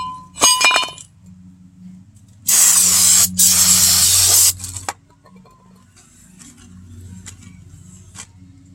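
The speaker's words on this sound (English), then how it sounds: "grab this brake cleaner, and spray them off" Brake cleaner hisses from an aerosol can onto new brake rotors for a 2011 Chevy Impala in two loud, close bursts of about a second each. Sharp metallic clinks come before them and quieter tapping follows.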